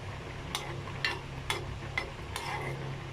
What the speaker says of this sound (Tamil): நெய் வந்து நல்லா சூடானதும் நான் வந்து கொஞ்சம் முந்திரி பருப்பை வந்து இதில் ஃப்ரை பண்ணி எடுத்துக்கலாம்